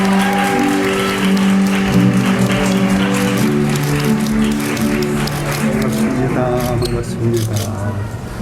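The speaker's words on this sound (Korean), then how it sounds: "우리 앞에까지 나오실 때 계속 박수로 축하해 주시기 바랍니다." Wedding guests in a convention hall applaud continuously and steadily while music plays underneath, a dense even patter of clapping that lasts throughout.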